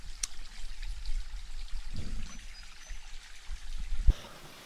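An Australian creek flows nearby with a soft, steady trickle, and a brief louder splash or knock comes near the end.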